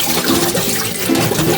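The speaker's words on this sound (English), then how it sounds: "Not supposed to really rinse it because it says so on the package, but nonetheless, I'm going to rinse" Water runs steadily from a tap as peas are rinsed, a loud, continuous close-up splashing and gushing with no talk.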